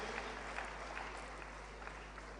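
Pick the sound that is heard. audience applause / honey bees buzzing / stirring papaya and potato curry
audience applause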